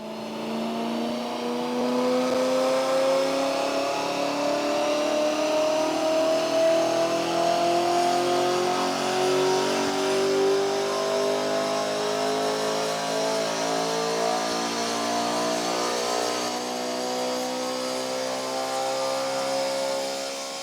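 A BMW E92 M3 with its S65 V8 engine revs steadily on dyno rollers, a sustained climbing engine howl rising in pitch over about twenty seconds, loud and close, with no talk.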